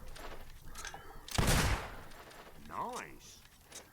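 Gunfire in the video game Fable 2: one sharp, loud shot burst, followed by a shorter ringing impact tone, with soft background ambience and no other shots.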